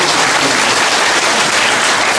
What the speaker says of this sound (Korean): 이분들한테 박수를 보내주십니다.